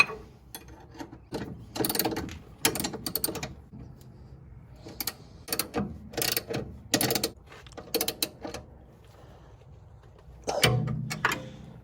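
A ratchet tightens bolts on a new roller-bearing spring perch and control arm of a 1968-69 Ford Fairlane. The ratcheting comes in close, clicking bursts separated by short pauses, with no talking.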